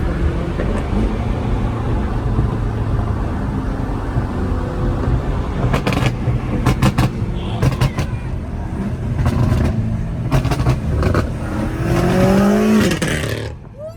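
A straight-piped Dodge Hellcat Redeye engine roars loudly up close, revving hard in repeated bursts with a brief tire squeal near the end before cutting off.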